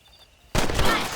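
Gunfire from Red Dead Redemption bursts in after a quiet moment, a sudden dense rattle of shots that holds loud and sustained to the end, with brief speech in the mix.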